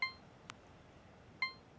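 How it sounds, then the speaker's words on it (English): A phone ringtone preview in a Bratz video game plays two short, faint, bright electronic chime tones about 1.4 seconds apart, with a tiny click between them and no talking. "listen to our ringtones"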